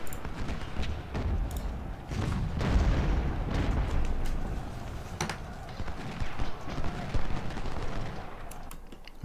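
Cavalry horses' hooves clopping in the Ultimate General Civil War game, a busy trample of hoofbeats mixed with distant booms of artillery and gunfire, steady and moderately loud with no speech.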